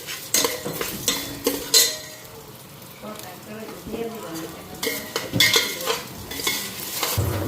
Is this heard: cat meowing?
no